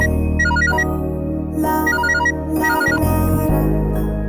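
A phone ringing with an incoming call, a loud electronic melodic ringtone repeating in short bursts over a low background hum.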